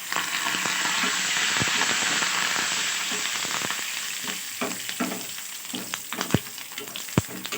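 Curry leaves hit hot oil in a pickle tempering with a loud, steady sizzle that crackles and spits, and sharp pops break through as the frying settles, heard close with no voices.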